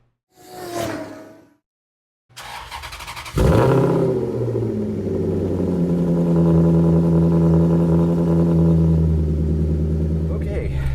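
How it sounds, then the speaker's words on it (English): Trek Maserati car engine starts up and settles into a steady, loud, rumbling idle, following a brief voice and a short silence. "Let's get the Trek Maserati out into the frozen tundra."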